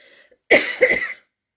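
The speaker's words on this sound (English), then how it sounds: "That's my grief cough." A single close, sharp cough with a brief throaty follow-through, standing alone in a quiet room.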